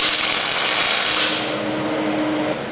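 Tack welding a gusset on a diff brace for a G60 gives a loud, close, continuous crackling hiss that holds for over a second, then eases to a lower, rougher buzz before stopping.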